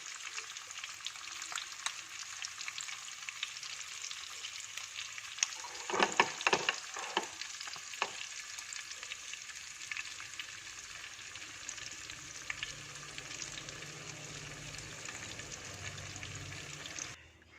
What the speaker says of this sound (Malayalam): അപ്പം നമ്മുടെ പ്രോൺസ് ഫ്രൈ റെഡി ആവാറായി.